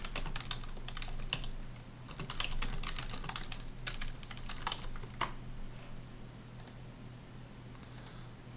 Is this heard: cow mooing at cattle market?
no